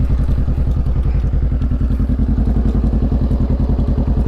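A motorcycle engine idles close by with a loud, rapid, even thumping pulse that stays steady the whole time, with no talking.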